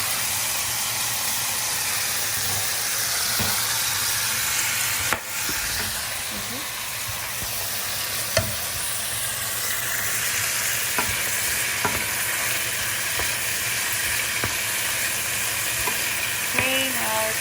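Pork collar frying in a covered pan hisses and sizzles steadily and loudly throughout, broken by a few sharp clicks and scrapes of stirring.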